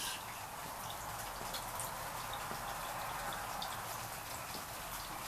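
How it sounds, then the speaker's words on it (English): Light raindrops fall steadily outdoors, a faint, even patter with scattered soft drips running the whole way through, heard alone at low level. "I don't know whether you hear the raindrops or not. They're not coming down very heavy"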